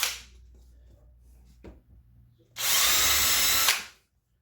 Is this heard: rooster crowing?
no